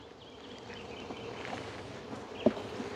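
Honey bees hum steadily around an open beehive during a dearth with nothing to forage, a continuous soft buzzing texture with one brief louder pass near the end.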